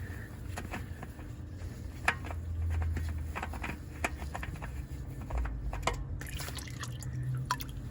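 Engine oil draining from a third-generation Honda Fit during an oil change, heard as a run of small drips and splashes into a pan, faint and fairly close, with some light clicking and handling noises and no one speaking.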